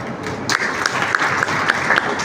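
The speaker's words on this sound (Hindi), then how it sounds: "जोरदार तालियां" An audience at a Jat Dharamshala gathering in Kurukshetra honoring meritorious students bursts into loud, sustained clapping, a thick crackle of many hands with a few sharper accents throughout.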